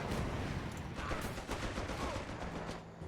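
Mortar blasts and gunfire in the Company of Heroes 3 real-time strategy game, a dense, continuous battle din of rattling shots and booms at moderate level without speech.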